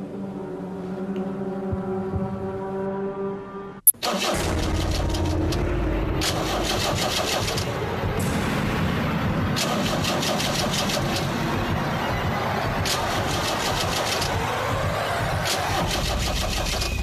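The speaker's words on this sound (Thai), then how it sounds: "ก็ได้ยินเสียงสตาร์ทรถตอนนี้สตาร์ทอยู่หลายที" A car engine cranks and catches after a brief low hum, then keeps running loud and rough with repeated revving surges, heard alone with no talking.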